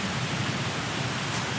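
A heavy downpour falls outside an abandoned university building, making a loud, even hiss of rain that stays steady throughout with no one speaking.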